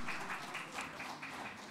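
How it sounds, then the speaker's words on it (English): An audience at an event claps in a round of applause, soft and somewhat distant, with a steady patter of hands. "Can we have a round of applause?"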